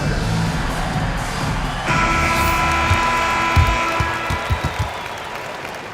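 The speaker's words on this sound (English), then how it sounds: "let's give some applause for your New Jersey Nets" A basketball arena crowd at a New Jersey Nets game against the Wizards claps and cheers. The applause rises partway through and holds as a dense, continuous wash of clapping.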